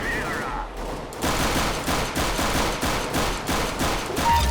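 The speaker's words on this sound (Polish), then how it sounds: "Ja strzelam bota, tak." Rapid automatic gunfire in Counter-Strike: Global Offensive, fired at a bot, cracks in a steady series of close, loud bursts, with a brief pause before the shooting starts.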